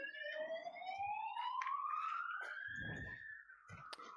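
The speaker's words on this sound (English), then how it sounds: "keep up to date as the ambulance goes past" An ambulance siren wails steadily with a slowly rising pitch as the vehicle passes outdoors near a petanque championship, with scattered clicks and knocks from the game around it.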